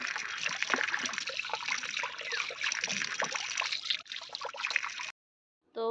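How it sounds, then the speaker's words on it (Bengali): Cut rohu fish pieces are washed by hand in water, producing continuous close splashing, trickling and sloshing that stops abruptly near the end, with no speech. "এই যে কাটাপোনা মাছ তো এটা ধুয়ে নেব"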